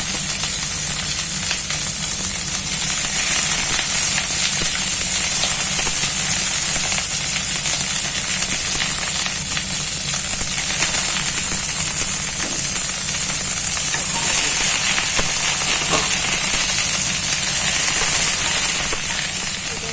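Cauliflower pieces frying in a pan of hot oil for a spicy Bengali jhol, a steady loud sizzle and hiss running unbroken throughout with faint stirring scrapes and no talking.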